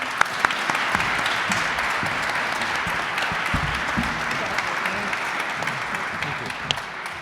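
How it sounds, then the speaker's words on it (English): Audience applause after an LGBTQ+ education, law and policy panel at a summit, a steady dense wash of clapping held for several seconds with a few sharp louder claps standing out. "Please let's give them one more round of applause."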